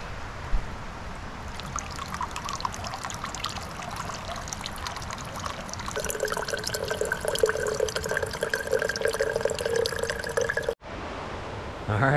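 Cold water from a mountain stream on a backcountry trail spills and trickles steadily near the microphone, rising into a brighter, louder splashing pour midway before briefly cutting off, with no voices.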